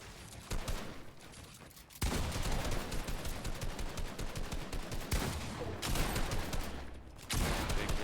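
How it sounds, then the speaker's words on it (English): Rapid bursts of gunfire crackle in a Fortnite match, dense volleys of shots running for several seconds at a time, separated by brief quieter gaps. "Been more shooting around them or into them."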